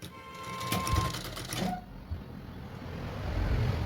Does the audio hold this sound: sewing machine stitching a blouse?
yes